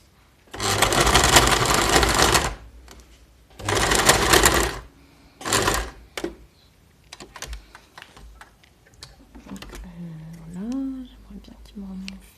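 A Brother PS-33 sewing machine runs in three bursts, a long one, a medium one and a short one, with a close, steady mechanical whir. Quieter clicks and handling noises follow, and a person speaks softly near the end.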